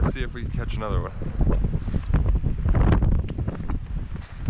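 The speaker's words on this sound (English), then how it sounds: "It's getting kind of windy, so we might have to head out." Wind buffets the microphone beside a river while fly fishing in Pilar, New Mexico, a loud rumbling gusting roar that nearly buries a voice at the start.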